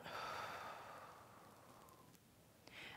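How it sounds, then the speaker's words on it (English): A single long, slow exhaled breath in a guided breathing exercise, loud and airy at first, then fading gradually into quiet with no talking. "breathe out."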